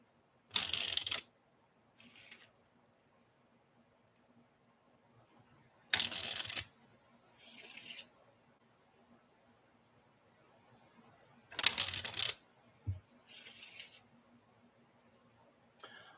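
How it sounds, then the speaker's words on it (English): Cards are riffle shuffled in three rounds, each a crisp burst of fluttering cards followed by a softer bridge, in an otherwise quiet room. "7 good riffle shuffles will randomize a deck of cards"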